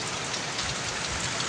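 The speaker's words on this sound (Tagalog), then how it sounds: "Lalong lumakas yung ambon." Rain pours steadily onto a hut roof, a dense, loud, even hiss of drops building in strength with no voices.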